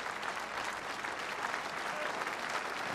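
Steady applause from a crowd gathered at an outdoor Remembrance Day memorial ceremony in Leeuwarden, a dense, even clapping that continues throughout at moderate distance.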